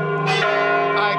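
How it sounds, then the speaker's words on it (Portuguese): A church bell in Lisbon rings loud and sustained, with two struck tones over a long ringing hum, heard outdoors by tourists. "dá pra ver o sino tocando aqui"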